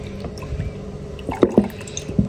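Curdled milk being rinsed out of a container in a kitchen, with soft drips, splashes and squishy swishes of water, a few louder sloshes near the end, close and moderate in level.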